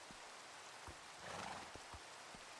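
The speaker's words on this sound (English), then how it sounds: "Horse." A horse neighs in Minecraft, a short whinny with a few clip-clop hoofbeats over a steady rain-like hiss, moderately close and without talk.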